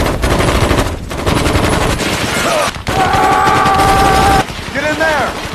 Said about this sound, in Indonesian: disusul dengan serangkaian tembakan